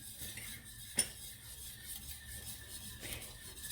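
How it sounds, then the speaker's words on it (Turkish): Butter gets stirred into a vanilla pudding in a pot, faint soft scraping and rubbing of a spoon with one sharp clink near the start, quiet and close. "1 yemek kaşığından biraz az tereyağı İyice karıştırmaya devam ediyorum."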